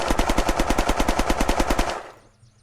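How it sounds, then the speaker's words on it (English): Viper pistol fired rapidly in the video game Unturned, a loud steady string of about fifteen close shots in quick rhythm, then the echo trails away. "I'll do the Viper first on this side."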